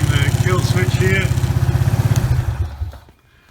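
A 1996 Suzuki Quad Runner ATV engine idles with a rapid, even, loud thumping pulse, then is shut off with a kill switch and fades to near silence; a voice is briefly audible over it.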